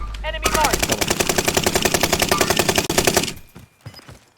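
Rapid automatic rifle fire in Call of Duty Warzone, a loud close burst of about three seconds with evenly spaced shots, then fading echoes and quiet.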